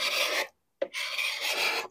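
Hand scraper rasping old finish off a wooden 1930s Heywood Wakefield dresser: two long, close scraping strokes separated by a brief pause, loud and alone.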